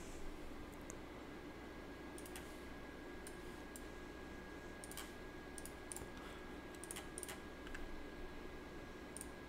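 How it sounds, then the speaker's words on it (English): Keys on a computer keyboard click as a short launch option for Payday 2 is typed, coming in scattered quiet bursts of taps over a faint steady hum. "we just type in -QA"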